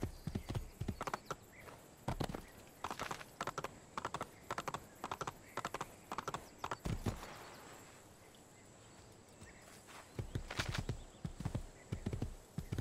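Horse hooves in Assassin's Creed II clip-clop in quick irregular bursts, close and fairly faint, with a short quiet stretch in the middle before the trotting resumes.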